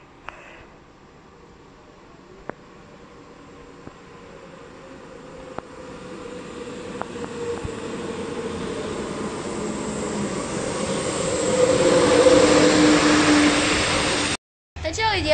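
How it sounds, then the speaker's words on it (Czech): A passenger train arriving at a Czech station between Nepomuk and Horažďovice: a low rumble that swells steadily from faint to loud as it approaches, with a brief squeal near the end and a few clicks along the way. "Takže lidi, právě nám přijíždí můj druhý vlak dneska teďka."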